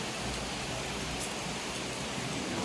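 Steady rain falls outdoors as a continuous soft hiss of drops on surfaces, even and moderately quiet throughout, with no voices.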